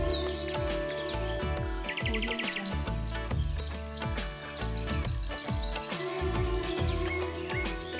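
Birds chirp and tweet in a resort garden in Jhargram, short high calls scattered throughout over a steady tonal background hum, moderately faint and without talk.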